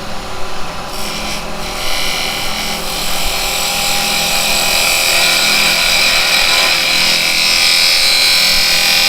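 Carbide chisel cutting wood on a woodturning lathe gives a steady, loud rasping scrape that runs without a break, close and alone, growing a little brighter toward the end.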